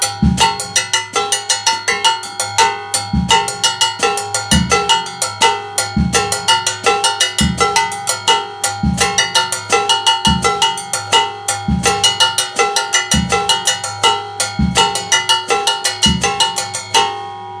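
An Afro-Caribbean bongo-bell pattern on a drum set, with a bright bell ostinato over steady hi-hat and punchy bass drum in a driving repeating groove, loud and close throughout with no voices.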